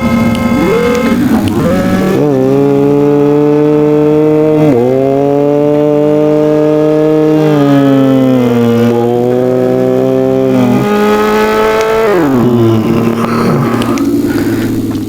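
A motorbike ridden in a blocky crafting video game sounds as a loud, continuous engine drone whose pitch repeatedly climbs and drops as the rider speeds up and eases off, heard alone for about fifteen seconds.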